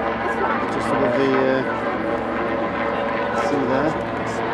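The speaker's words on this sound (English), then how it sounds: "It's a Puma, a military helicopter," A Puma military helicopter flies over the sea at an air show, its engine and rotor making a steady loud drone with a shifting whine, heard under someone talking.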